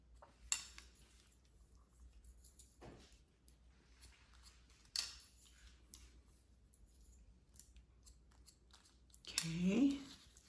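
Scissors point cutting fine hair into a short bob make a few crisp snips, spaced far apart and faint, over a quiet room hum.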